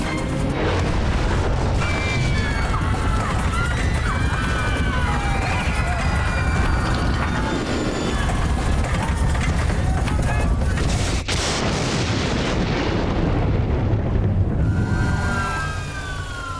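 Air France Flight 358 overrunning the runway and crashing, heard as a loud, continuous roar of rumbling impact and tearing noise with a sharp crack partway through, a narrator speaking over it.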